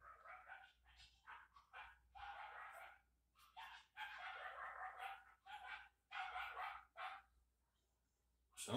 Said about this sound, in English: Somebody's getting all fussy out there. Hope it's not my dog.